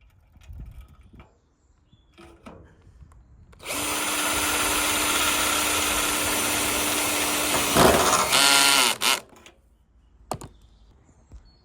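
A cordless drill drives screws into the frame of a 3m x 3m Bliss pergola from Casa Maria designs. The drill whirs loud and steady for about four seconds, then gives a few short bursts, with quiet handling noise before and after.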